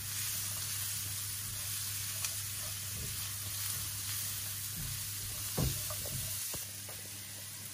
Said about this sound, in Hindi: इसको 3 मिनट के लिए जो है हम इसके अंदर फ्राई करेंगे